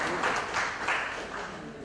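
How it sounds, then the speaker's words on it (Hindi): An audience at an awards ceremony in a hospital gives a welcoming round of applause, a moderately loud, continuous patter with a voice calling out over it. "जोरदार ताली स्वागत कर सकते हो आप"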